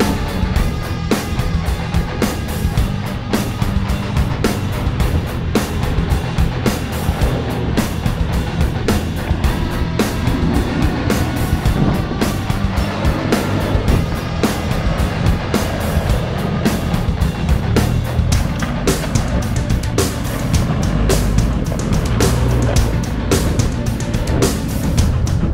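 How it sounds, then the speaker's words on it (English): A rear-locker diesel Toyota Prado drives off-road in the Bendleby Ranges of the Flinders Ranges, South Australia, with a steady, loud engine rumble and crunching terrain noise running continuously throughout. "Next up, it's Matt's turn with his rear lock diesel Prado"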